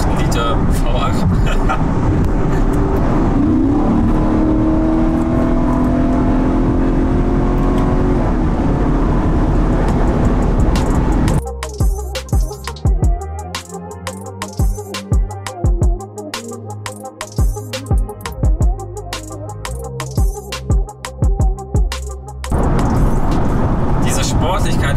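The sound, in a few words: Porsche Panamera GTS 4.8-litre V8 engine driving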